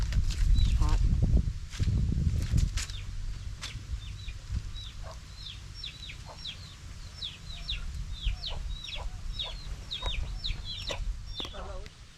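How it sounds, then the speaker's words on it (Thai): Backyard chickens kept at a lone man's forest home cluck repeatedly in a steady, close stream, with small wild birds chirping over the top and brief voices and handling noises near the start. "เขาก็เลี้ยงไก่อยู่ของเขาคนเดียวได้ค่ะ"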